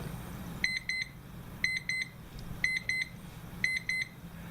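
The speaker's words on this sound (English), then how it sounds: "when the time is up, it beeps." A Time Timer signals that time is up with four bursts of quick, bright beeps, each burst a rapid string of four tones, repeating at a steady one-second rhythm over a low room hum.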